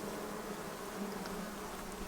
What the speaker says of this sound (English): A lot of bees right there.